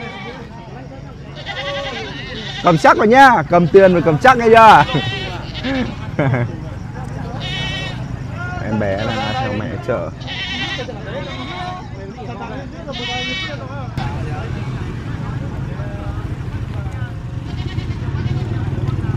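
Goats bleating at a mountain livestock market in northwest Vietnam, several loud wavering cries close by in a cluster, then scattered fainter bleats, with people talking throughout amid market bustle.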